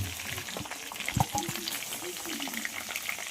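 Raw mango pieces fry in hot oil with a steady, close sizzling crackle and occasional stirring clinks throughout.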